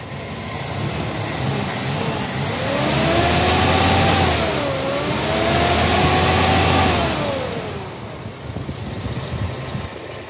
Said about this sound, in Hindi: जी दोस्तों, इंजन चेक कर सकते हैं आप